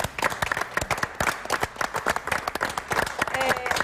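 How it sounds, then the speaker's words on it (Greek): Audience clapping in a television studio, a lively burst of individual claps that stay distinct and fairly close, sustained for several seconds with a voice briefly heard beneath it. "Και θέλω ένα χειροκρότημα για την Βίκυ."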